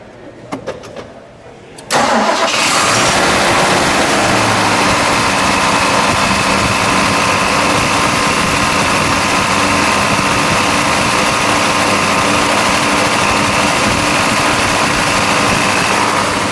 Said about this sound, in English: let's fire it up. We'll let it idle for a second.